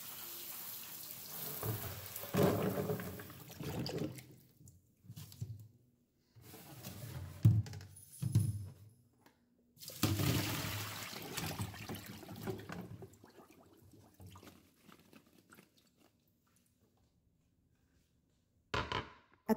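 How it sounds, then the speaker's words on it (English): Pumpkin pieces rinsed under a running kitchen tap after soaking overnight, water splashing and trickling in uneven bursts with short pauses, fairly quiet and close, no talking. "I'm going to rinse all of my pumpkin pieces well."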